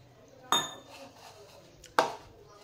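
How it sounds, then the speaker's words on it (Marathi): A spoon knocks against a bowl while chili powder, cumin and oil are stirred into flour for a fasting-day dough: two sharp, close metallic clinks about a second and a half apart, with quiet scraping in between. "ही सगळी जिन्नस व्यवस्थित मिक्स करून घ्यायचं आहे।"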